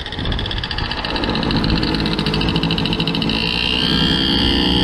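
A cheap moped's small engine runs steadily nearby, a buzzing, rattly drone with a high whine on top that holds constant throughout, with no talking.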